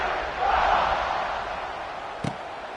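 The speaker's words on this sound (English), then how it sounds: "this crowd is buzzing after that last score" A football stadium crowd at a UCLA game sends up a broad, sustained buzz of noise that swells and then slowly settles, with a brief sharp knock near the end.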